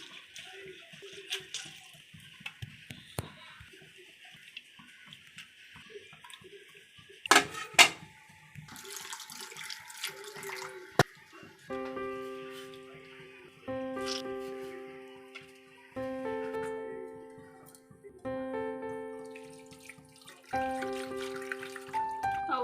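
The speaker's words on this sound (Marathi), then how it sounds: "दोन तीन पाण्यामध्ये हा चांगला धुवून घ्यायचा आहे" Water sloshes and trickles as sago pearls are swirled and rinsed by hand, then soft music with plucked tones takes over.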